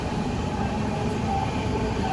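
A passenger train runs through Maharashtra, heard as a steady, dense rumbling roar from on board, continuous and even with no talk.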